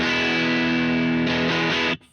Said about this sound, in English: Default setting on the amp, Telecaster sounds like this.